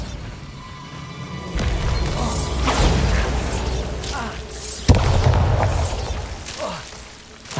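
A Bombarda blasting spell in Hogwarts Legacy lands as two loud booming explosions a few seconds apart, each followed by crashing debris and a rumbling tail.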